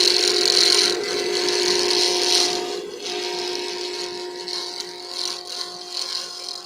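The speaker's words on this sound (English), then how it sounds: "let me turn the blower on" A dust blower runs in a pen-turning workshop, giving a steady broadband whoosh that is loud at first, then eases to a slightly quieter, even rush with faint scraping in the background.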